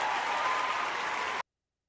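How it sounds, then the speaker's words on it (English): Steady, dense applause welcoming a guest onto a live show, even and unbroken for about a second and a half before it cuts off abruptly into silence. "Let's bring her in with a round of applause."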